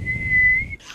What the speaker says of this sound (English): So just whistle when you want to get a hold of me.